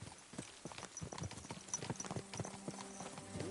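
Horse hooves clip-clopping steadily on the ground in Kingdom Come Deliverance 2, a quick, continuous run of close hoof strikes with a faint tonal hum rising toward the end.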